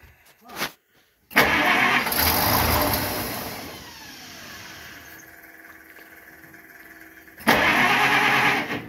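A 1927 Chevrolet engine cranks and begins to turn over, a loud close churning burst that settles into a rougher, quieter running rhythm before another loud surge near the end; no talk.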